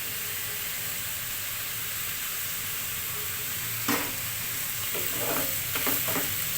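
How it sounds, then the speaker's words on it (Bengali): Raw jackfruit sizzles in oil with salt, turmeric and chili powder, a constant close frying hiss. Clattering spatula stirring strokes join partway through and repeat toward the end, with no talking. "এগুলোকেও ভালো করে মিশিয়ে নেব কাঁঠালের সঙ্গে"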